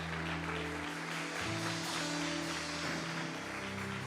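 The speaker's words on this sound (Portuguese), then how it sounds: "Você pode dar uma salva de palmas ao Senhor." A church congregation claps in praise at an evening service, a soft, steady patter of hands beneath sustained keyboard chords throughout.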